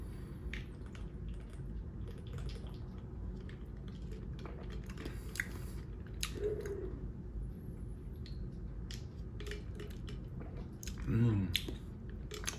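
Someone bites into and chews sour green apple flavored food close to the microphone, with soft crunches and wet chewing over a low background hum, including a louder crunchy bite near the end.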